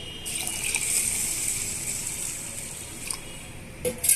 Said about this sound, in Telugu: ఇప్పుడు ఇందులోనే మనము మంచినీళ్ళు పోసి